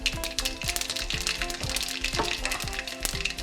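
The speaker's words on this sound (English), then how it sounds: "just listen to that popping sound" Carrom and mustard seeds popping in hot oil in a pan, a steady frying sizzle broken by sharp, rapid crackles and pops, close and clear, with no talking.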